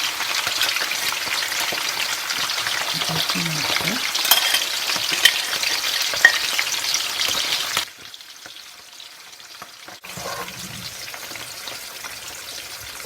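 Turkey frying in a pan, a steady crackling sizzle with occasional pops and stirring, dropping abruptly quieter partway through before resuming at a lower level.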